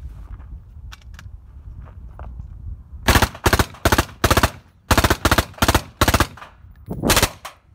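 Suppressed full-auto gunfire through a Thunder Beast DSU suppressor rings out in repeated short bursts after a quiet, shuffling start, loud and close with brief pauses between strings.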